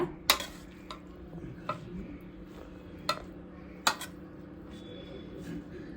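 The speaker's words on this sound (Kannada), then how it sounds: "ಇವಾಗ ನಿಧಾನವಾಗಿ ಮಿಕ್ಸ್ ಮಾಡ್ಕೊಳ್ಳೋಣ" Cooked rice being stirred slowly through avarekalu gojju (hyacinth bean gravy) in a pan for chitranna, with scattered sharp spoon-on-pan clinks and scrapes over a low steady background, no talking.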